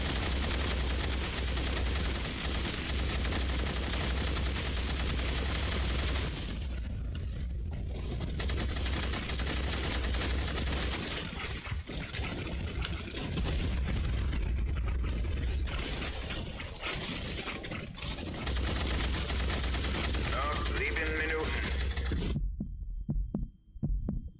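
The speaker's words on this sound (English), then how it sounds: "They're shooting me." Gunfire in The Saboteur rattles in dense, sustained bursts at close range, continuous and loud throughout, then cuts out abruptly near the end, with no talking.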